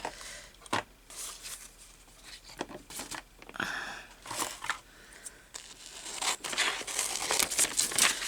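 Old paper from a book being roughly cut with scissors, with crisp snips and crinkling handling noises in irregular bursts, close and moderately loud, no talking.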